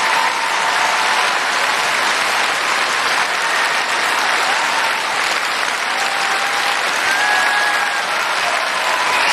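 Loud, sustained applause fills a hall at the Victoria 2024 music award ceremony, a thick, even wash of clapping from a large audience lasting about nine seconds without a break.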